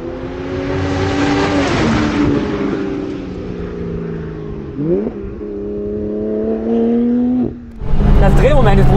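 A BMW 1 Series M Coupe with a turbocharged engine accelerates hard on a track, its loud, close engine note climbing steadily through gears with audible shift breaks, then surging again at the end.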